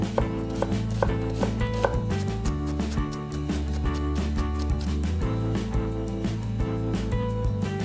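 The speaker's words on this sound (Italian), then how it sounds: "nel frattempo andiamo a tritare una cipolla" Rapid, steady knife chopping of an onion on a board runs under background music, a quick even rhythm throughout.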